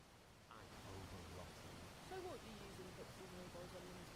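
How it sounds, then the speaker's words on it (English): Continuous broadband rushing water fills the clip, steady like a waterfall, with faint tonal sounds and a low voice-like murmur underneath. "Yeah, that sounds like a waterfall."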